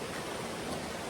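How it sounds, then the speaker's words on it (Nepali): Stream water flows along a hiking trail in Shivapuri National Park, a steady close rushing wash with no breaks and no voices. "पानी यहाँ हेर्नुहोस्"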